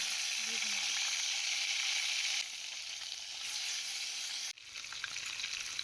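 Katla fish pieces fry in hot mustard oil in a wok with a loud, dense, steady sizzle that dips briefly partway through and then continues.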